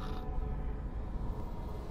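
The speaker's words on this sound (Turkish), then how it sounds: "Kapı açıldı." A heavy door creaking open in the video game God of War III, a sustained grinding creak that runs steadily and loudly throughout without any talk.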